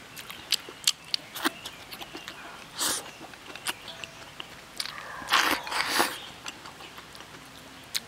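Close, soft biting and crunchy chewing as someone eats rice heaped with chili and pumpkin, in scattered bursts with quiet gaps between mouthfuls.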